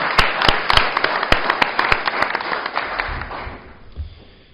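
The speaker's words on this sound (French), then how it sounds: "on peut aussi l'applaudir" Applause from the audience at a mayor's 2019 New Year address in Sissy, a burst of clapping that gradually thins and fades toward the end.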